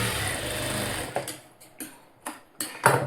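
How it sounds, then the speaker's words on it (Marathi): A sewing machine runs steadily while stitching a blouse seam, then stops, followed by a few sharp mechanical clicks and taps close by. "पुन्हा त्याच्यावर आपण ही शिलाई वापस फिरवायची"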